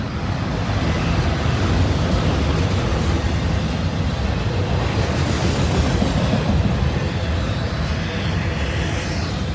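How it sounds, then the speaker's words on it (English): Two brand-new locomotives roll past with a loud, steady rumble and rail noise, the clatter of wheels on track continuing without a break from start to finish and with no talking. "Two really sharp looking locomotives there."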